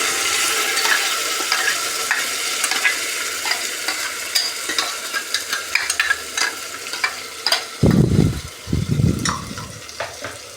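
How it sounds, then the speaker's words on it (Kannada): Ground masala paste fries in oil in a pan with a steady crackling sizzle and repeated scraping stirs, and a few heavier knocks of the spoon come near the end. "1-2 ನಿಮಿಷ ಎಣ್ಣೆ ಬಿಡೋವರೆಗೂ ಫ್ರೈ ಮಾಡ್ಕೊಳ್ಳೋಣ, ಜಾಸ್ತಿ ಬೇಡ."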